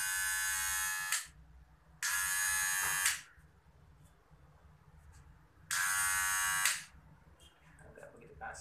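A new, unlubricated Kemei 2600 electric hair clipper buzzes roughly in three loud bursts of about a second each, with quiet pauses and low background noise between them.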